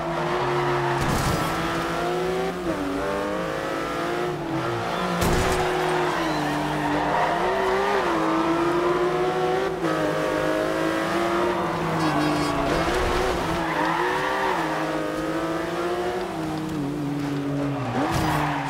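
Sports cars racing around the Town Square Circuit in Forza Horizon 2, with continuous loud engine whine shifting pitch through gear changes and repeated tire squeals in the corners.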